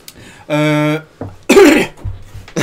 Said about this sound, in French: c'est ma toux de cigarette qui prend le dessus